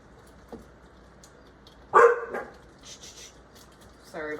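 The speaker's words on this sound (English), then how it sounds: "Sorry about the dogs, guys." Dogs bark in a home kitchen during casserole preparation: one sharp bark, then a couple of quieter follow-up yips and a final short burst of barking, nearby and brief.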